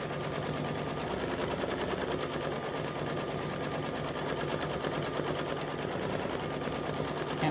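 An embroidery sewing machine quilting a mug rug in the hoop, a continuous fast, even needle patter, close and unbroken throughout.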